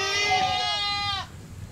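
A goat kept at a mountain goat school bleats loudly and close by in one long wavering call that cuts off abruptly, followed by quiet background.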